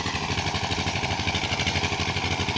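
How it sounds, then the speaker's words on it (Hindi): A tube well pump engine in a village runs steadily nearby, a continuous thumping chug with a dense mechanical drone, no voices. "अभी तक ट्यूबवेल चल रहा है"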